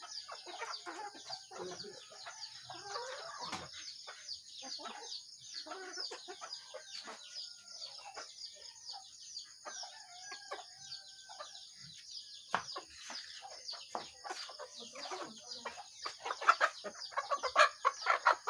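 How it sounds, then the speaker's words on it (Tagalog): Native chickens crossbred with Rhode Island Red cluck and chatter intermittently at low volume over a faint steady hiss, with scattered short calls throughout. "Ito po yung mga manok natin"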